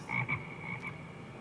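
A frog croaks faintly in a few quick, raspy pulses, then a softer trailing croak, set against a quiet background.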